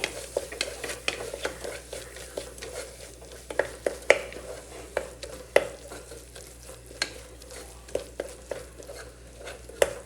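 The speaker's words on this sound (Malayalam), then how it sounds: "പച്ചമണം മാറുന്ന വരെ ഒന്ന് ഇളക്കി കൊടുക്കേ" Spices are stirred in a frying pan for a liver fry, with brisk, repeated spatula scrapes and taps on the pan over a soft sizzle, close-up and crisp.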